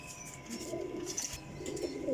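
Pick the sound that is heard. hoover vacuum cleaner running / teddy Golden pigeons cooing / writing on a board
teddy Golden pigeons cooing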